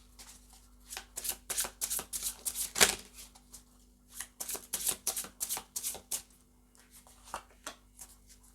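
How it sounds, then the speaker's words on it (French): Tarot cards being shuffled and drawn, crisp papery riffles and slaps in quick irregular bursts, close and fairly quiet, with a sharper snap near the middle and brief pauses between runs. "Allez, on va tirer une autre carte."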